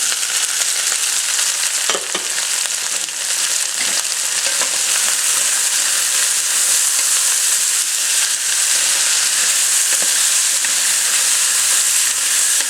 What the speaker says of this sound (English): we're going to give this a stir, and we're going to cook this for about 10 minutes before moving on